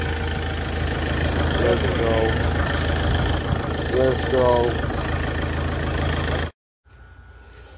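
A forklift engine idles steadily after a jump start, a low continuous rumble heard up close under a man's speech, cutting off abruptly near the end.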